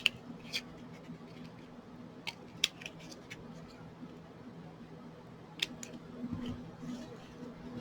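Scissors snip divots into a cardboard egg carton for paper flowers, a few sharp irregular cuts spaced over several seconds with quiet rustling between them and no talk.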